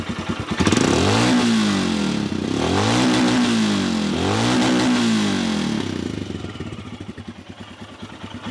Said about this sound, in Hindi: तो चलिए भैया सुन लेते हैं इन दोनों मोटरसाइकिलों की आवाज़